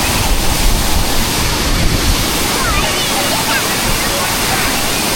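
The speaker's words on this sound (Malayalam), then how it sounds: "ഇതാ വെള്ളച്ചാട്ടം." A waterfall in Kannur roars loud and close, a dense unbroken rush of falling water that fills the whole scene.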